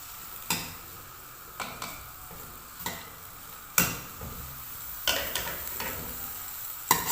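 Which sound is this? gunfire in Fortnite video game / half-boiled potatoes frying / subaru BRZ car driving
half-boiled potatoes frying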